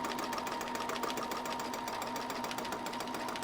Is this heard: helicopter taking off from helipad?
no